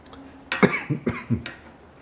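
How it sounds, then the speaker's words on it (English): A short fit of four or five harsh coughs in quick succession, close and fairly loud, caused by fumes from a rust remover. "it's the fumes from this stuff that's making me cough"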